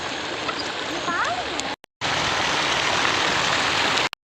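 A small outdoor water fountain at a hill-station boating spot sends a steady, close splashing rush, briefly cut off and then resuming, with a voice heard early on.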